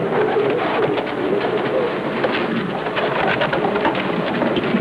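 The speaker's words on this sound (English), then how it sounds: "An untrained pigeon behaves naturally." Pigeons coo over a steady, dense background hiss that resembles rain, the soft repeated calls continuing throughout at moderate volume with no voices.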